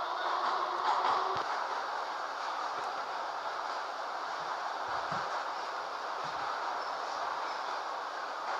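A Moscow metro train rumbles along at a steady roar, a continuous close rolling noise with faint rhythmic knocks underneath.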